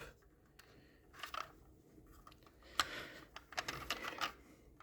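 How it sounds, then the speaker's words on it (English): Small, sharp metallic clicks in short clusters from the doors of a diecast Nissan Z model car, close and fairly quiet, over faint background hiss. "You can hear the metal clicking"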